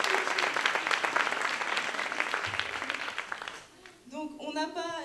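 An audience at a fashion show applauds the make-up artists with dense, sustained clapping that fades out, after which a voice starts speaking.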